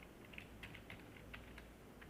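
Rapid, light clicks of typing on a computer keyboard, irregular keystrokes tapping quietly against a steady background hiss.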